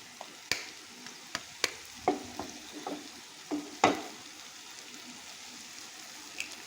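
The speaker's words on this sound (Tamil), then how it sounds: "இப்போது இது எல்லாமே ஓரமாக தள்ளி விட்டு நடுவில் ஒரு முட்டையை உடைச்சி ஊற்றிக்கிறேன்." Goat brain sizzles in frying masala as an egg is cracked into the middle of the pan, with several sharp taps and clicks over a steady low sizzle.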